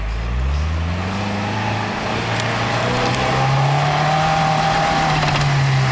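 An off-road vehicle engine revs hard as it takes a hill climb with a run-up on rough terrain. The loud, sustained drone rises in pitch, steadies, and climbs again.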